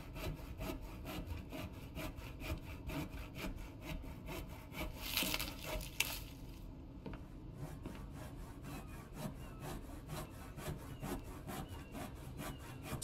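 Wood being sawn in the video game The Infected, a quiet, steady rhythmic rasp of repeated saw strokes with a brief louder scrape midway.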